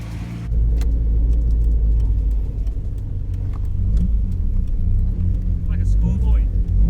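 A car engine runs with a deep, steady rumble close by and rises at moments as it revs. People talk over it throughout.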